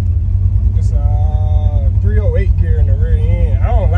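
LS-swapped Chevrolet S10 pickup with a 308 gear runs with a loud, steady low engine rumble throughout, while voices talk over it.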